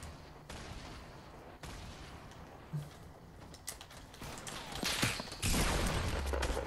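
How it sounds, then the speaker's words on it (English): Gunfire from a Fortnite duo match sounds as scattered shots and bursts over a steady game-noise bed, building louder toward the end, with no talk over it. "now I'm taking shots from"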